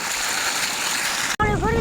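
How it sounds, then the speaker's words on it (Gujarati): An outdoor waterfall roars as a dense, steady wash of falling water. It cuts off abruptly, and a voice speaks briefly afterward. "અમાર પાણીનો ધોધ પડે છે."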